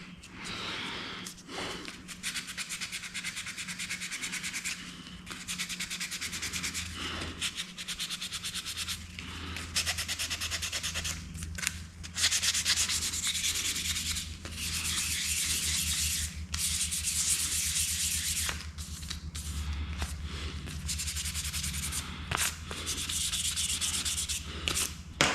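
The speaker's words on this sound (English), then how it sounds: "sand with either a marine pad or 500" Car trim being hand-sanded with a marine pad or 500-grit paper in a garage: a continuous close, rasping rub that runs in long strokes with brief pauses.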